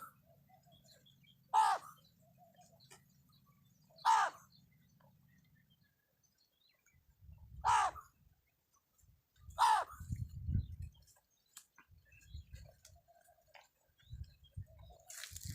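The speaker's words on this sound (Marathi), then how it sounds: "कावळ्याचा आवाज असा असतोय." A crow caws outdoors in a village, four separate loud harsh calls spaced a few seconds apart, with quiet gaps and some low rustling and knocking between them.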